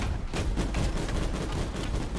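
Burster cannons on MAX units firing in PlanetSide 2, a steady run of dense, rapid blasts that keeps going nonstop at close range with no talking.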